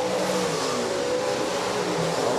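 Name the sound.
USRA stock cars racing in a heat race at Rapid Speedway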